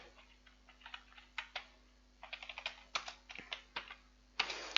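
Quick, light keystrokes on a computer keyboard as HTML and CSS code is typed, coming in irregular bursts of taps with short pauses, close and fairly quiet over a faint steady hum.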